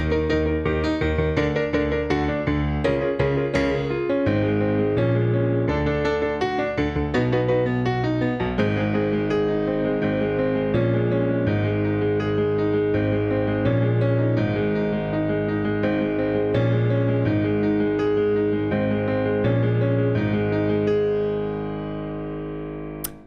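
Piano plays a sustained passage of a song, chords and melody ringing steadily, loud and close, fading out at the very end.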